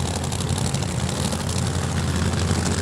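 A funny car's racing engine at a drag strip championship eliminations, heard as a loud, continuous, heavy engine roar with a deep low rumble and no voices.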